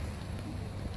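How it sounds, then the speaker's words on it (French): Steady rain falls outdoors during an open-air civic speech at a Bastille Day ceremony in Brumath, a dense, even hiss of drops with no pauses, fairly loud and constant, with no clear talk over it. "Désolé pour la pluie"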